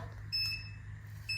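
An Urban Yog hair curler gives two short electronic beeps when a curl is done, the first around a third of a second in and the second near the end, each clear over a low steady hum.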